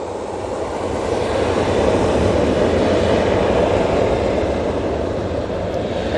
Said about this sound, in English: Ryanair now on the roll